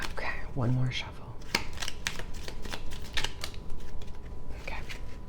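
A deck of cards is shuffled up close in a series of crisp snapping riffles and flicks that continue through the clip, with a low voice faintly underneath.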